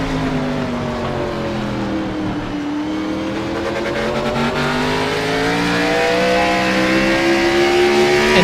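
NASCAR stock cars race at Martinsville Speedway in a Friday night short-track event. A loud, continuous engine drone fills the whole stretch, with layered engine notes rising in pitch as the cars accelerate down the straight.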